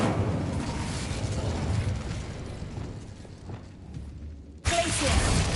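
Incendio fire spell cast in a video game, a rushing, roaring burst of flame that fills the clip and dips before a sharp, loud new surge near the end.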